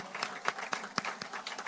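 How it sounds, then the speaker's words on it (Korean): Audience applauds at a political rally with scattered, fairly soft clapping that stays steady through a short stretch. "박수 좀 부탁드리겠습니다"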